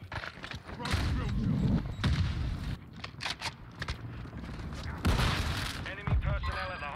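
A Kastov 74u rifle fires in Modern Warfare 2, bursts of gunshots and impacts mixed with in-game voices and callouts, loud and close with brief lulls between volleys.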